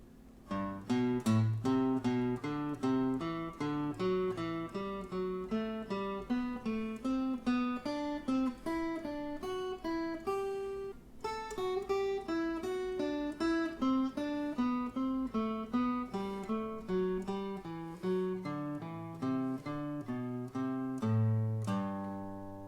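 A melodic instrument plays a steady run of single notes climbing and descending through a major scale in Ionian mode, clear and even, with no voices.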